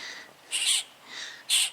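Blackbird chicks in a nest in upstate New York, giving four shrill squawks in uneven pairs, close and clear against a quiet background.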